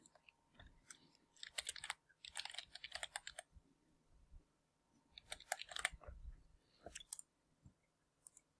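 A password is typed on a computer keyboard in short, quiet bursts of rapid key clicks separated by brief pauses.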